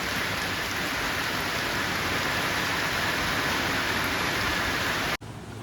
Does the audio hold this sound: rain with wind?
yes